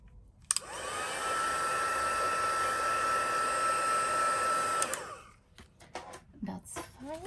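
A handheld heat tool blows hot air over a piece of artwork, a steady roaring whoosh lasting about four seconds before it cuts off, followed by light handling noises.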